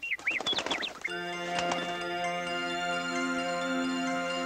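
Lullaby birds in a snowy Christmas scene sing a few bright warbling chirps, then a sustained music-box-like chime tone rings on, moderately loud.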